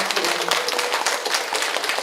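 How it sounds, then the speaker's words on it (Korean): A Korean Won Buddhist talk concert audience breaks into brief, dense applause, many hands clapping together in a short burst with little else audible. "다시 한번 힘찬 박수와 함성을 보내주세요"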